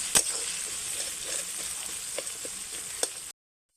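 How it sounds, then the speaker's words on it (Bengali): Chopped onions with salt frying in oil in a pan, a steady close sizzle with a few sharp clicks of stirring, alone without voices, ending abruptly. "পেঁয়াজ কুচিটা লাল লাল করে ভেজে নেব"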